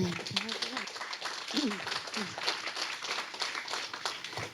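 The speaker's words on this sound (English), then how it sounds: "Round of applause." Applause from a tech meetup audience after a startup pitch, a dense run of clapping that carries on without a break, with voices and a brief laugh showing through near the start.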